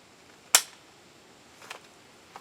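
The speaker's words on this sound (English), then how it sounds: "Click, no bang." A firearm misfires with a single sharp metallic click close by, followed by softer mechanical clicks and handling noises, with no bang.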